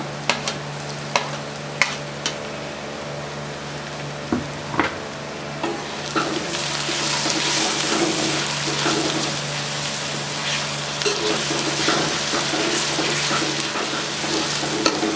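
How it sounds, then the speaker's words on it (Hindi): Ginger and garlic hit hot oil with already fried onions, starting as scattered stirring clinks and then rising into a steady, bright sizzle of frying that continues close and loud without any talk. "प्याज फ्राई हो चुका है। अदरक लहसुन डालेंगे।"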